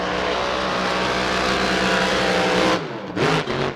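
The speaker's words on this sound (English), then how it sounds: "Love watching this boat get around, and Damon drives the wheels off it." A racing powerboat at E C Griffith Cup practice roars past with a loud, sustained engine drone, then the sound breaks off into shorter revving bursts.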